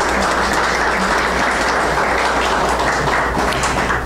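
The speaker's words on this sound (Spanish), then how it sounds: "lo recibimos con un aplauso" Steady applause from a lecture audience welcoming a doctor before a talk on bariatric and metabolic surgery, dense and continuous throughout without any speech.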